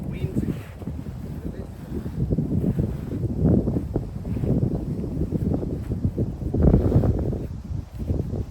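Outdoor wind gusting and buffeting the microphone while a heavy-duty canvas stretcher tent is packed down, a steady low roar that swells in waves and peaks loudly near the end.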